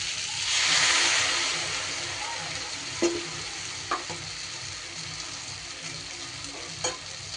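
Spice paste added to frying tomatoes in a pan, starting with a burst of sizzle that settles into a steady crackle, with a few light utensil taps against the pan.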